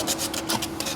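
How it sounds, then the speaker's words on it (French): Abrasive sanding inside a small piece to key the surface for glue, heard as close, steady scratchy rubbing strokes in a quick repeating rhythm with no talking. "il faut poncer l'intérieur à chaque fois systématiquement pour faire créer ce genre d'accroche à la colle"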